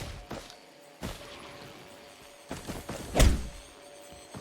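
In the video game Risk of Rain 2, a shovel strikes a turret with several dull thuds and knocks, the strongest impact landing near the end, spaced irregularly over a quiet background.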